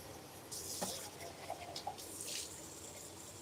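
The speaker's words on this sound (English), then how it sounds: "So I rinse these out" Tap water runs into a kitchen sink while containers are rinsed, a soft steady splash with brief clatters, faint and fairly close.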